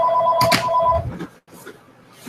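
A phone rings with a bright electronic tone, one short burst of ringing up front before it cuts off, leaving quieter room noise and faint shuffling.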